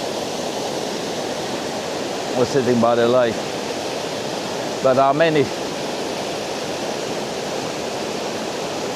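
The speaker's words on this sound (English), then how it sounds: "There's another waterfall" A waterfall beside a lake pours in a steady, broad roar that fills the whole scene, while someone speaks briefly twice over the constant rushing water.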